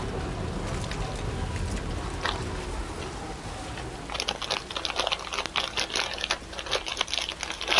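A plastic bag of veggie straws crinkles and crackles up close, with rapid dense rustling starting partway through over a steady background hiss.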